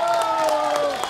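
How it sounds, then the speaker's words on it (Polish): Crowd in Koszalin welcoming home an Olympic medalist, with cheering and clapping swelling under a loud announcer's voice through a brief, dense burst. "Koszalin, wielkie brawa!"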